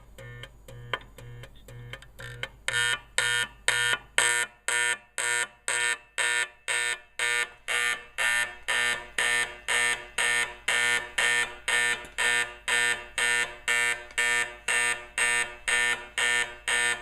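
An Edwards 876-G5 fire alarm horn on supervisory setting is being adjusted with its volume screw. It sounds loud, rhythmic pulsing blasts that start softer and choppy, then settle into a steady repeating pattern.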